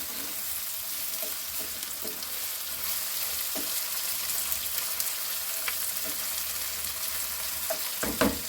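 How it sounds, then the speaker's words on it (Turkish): Cauliflower, peppers fresh from the freezer and garlic sauté in a pan with a constant close sizzle, broken by occasional soft spoon clicks and a few louder knocks near the end, and no one speaks. "Biraz kavuruyorum."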